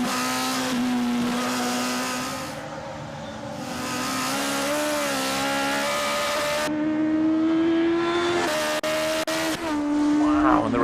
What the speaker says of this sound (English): this car looks and sounds extremely quick